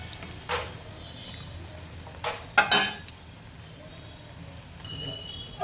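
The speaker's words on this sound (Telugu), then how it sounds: "వీటిని మనము ఒక ప్లేట్లోకి వేసుకుందామండి." Fried chicken pakoda is tipped onto a plate with a few sharp clinks and scrapes of a utensil against cookware, a brief cluster of metallic knocks amid quiet background frying and a voice speaking.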